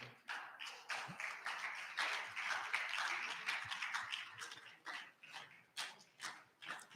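An audience at a national reconciliation summit claps steadily, a soft patter of hands rising and falling in waves across the hall, with no voices over it.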